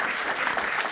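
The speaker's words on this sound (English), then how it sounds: "Please give yourself another round of applause" An audience at a live political discussion event in Boston claps loudly and densely, a steady wash of many hands applauding together.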